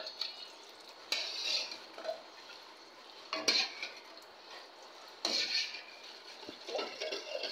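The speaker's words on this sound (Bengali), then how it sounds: "ভালোভাবে মিক্সড করে নেব।" Ingredients for mishti doi being mixed in a bowl: light scraping and clinking of a utensil against the dish, with a few sharper taps, fairly faint and close.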